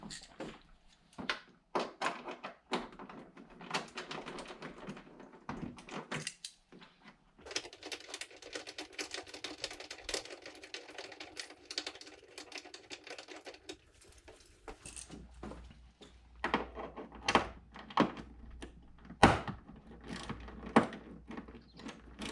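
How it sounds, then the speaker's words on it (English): Work at the opened trunk of a 2015-or-later Honda Fit (GK5) while the 8mm bolts holding the rear trim are removed: scattered close clicks, clunks and light rattles, some louder knocks, with no one talking. "we're going to open up the trunk and remove the 8mm bolts, one on the driver's side and one on the passenger side"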